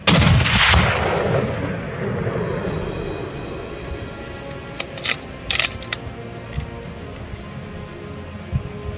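A rifle fires a 212 gr Hornady ELD-X bullet at a black bear during a hunt: one loud, close shot whose rumble fades slowly, followed by a few faint mechanical clicks and knocks.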